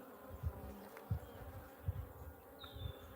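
Bees from a captured swarm, two weeks in their new hive, hum faintly around the box in an Australian summer, with a few low thumps and an occasional close fly-by buzz.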